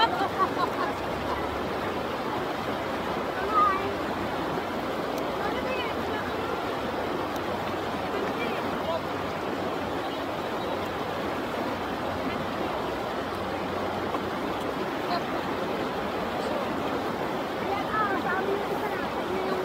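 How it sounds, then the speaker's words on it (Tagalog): A strong stream rushes loudly behind a spot in Mayantoc, Tarlac, making a steady, dense roar of water that fills the whole stretch with no speech. "Sobrang lakas ng tubig dun sa may likod, so hindi tayo pwede pumunta dun."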